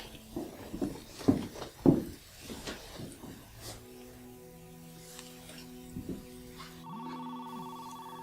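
An indoor telephone rings unanswered, its tones heard faintly in the background after some footsteps and shuffling, with a steady electronic hum underneath.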